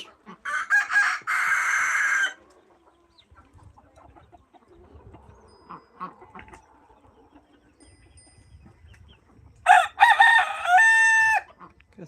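A free-range village rooster crows loudly nearby at the start and again near the end, with quieter clucking and rustling in between, on a farm.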